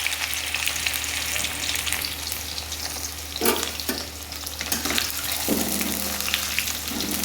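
Potatoes fry in a pan of hot oil with bay leaves and whole garam masala, giving a steady, close sizzle throughout, broken by a few brief clinks and scrapes of stirring.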